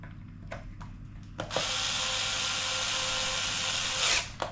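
A power screwdriver driving short screws into an Absima Torch Gen 2.0 RC car: a few small clicks and taps, then a sustained whirring buzz for about two and a half seconds that stops abruptly, close and loud.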